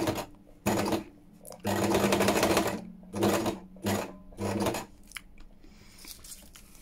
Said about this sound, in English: So I'm going to sew across here.